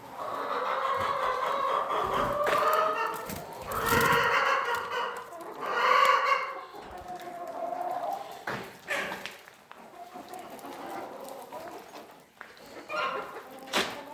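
Chickens cluck and squawk in close, overlapping bursts, with a rooster crowing among them and the flock's calls rising and falling throughout.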